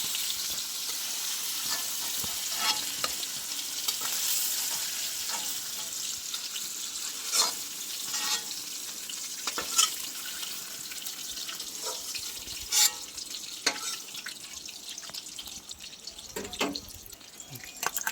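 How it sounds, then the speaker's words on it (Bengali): Paneer cubes frying in hot oil in a home kitchen, a steady close sizzle with scattered pops and the odd clink of a utensil, and no talking. "আমার পনির ভাজা হয়ে গেছে, এবার পনিরগুলোকে আমি তুলে নেব।"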